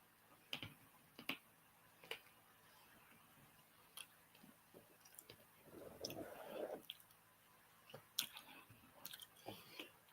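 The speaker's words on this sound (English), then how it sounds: "Of course, I'm still munching on it." Sweets being chewed close to the mic, with wet squishy mouth clicks and soft crunches coming in irregular bursts, denser in the middle and dying away toward the end, no talking.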